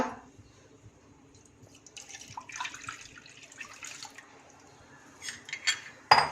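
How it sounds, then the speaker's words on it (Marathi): Milk being poured into a hot pan over a medium gas flame for dudhi halwa: a faint, trickling splash that builds into uneven liquid patters, ending with a sharp clink. "यामध्ये दूध घालूया."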